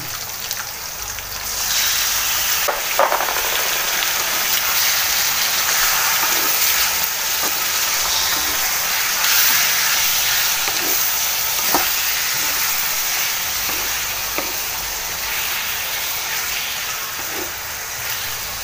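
Meat sizzles and fries steadily in a hot pan with sautéed onion and garlic, a continuous loud hiss with occasional stirring scrapes and no talk.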